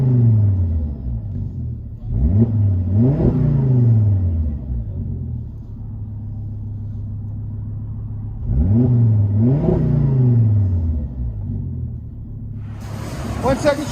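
A 2000 Volvo S70 Turbo with a straight-pipe exhaust revs twice, each loud, rising blat dropping back to a steady rumbling idle, with a brief hiss at the end.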